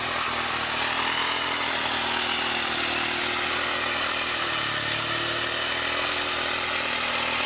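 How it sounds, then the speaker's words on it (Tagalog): A grass cutter runs steadily at high revs while cutting weeds under okra plants on a farm, a loud and continuous engine whine with no pauses. "yung pag-grass cutter niya."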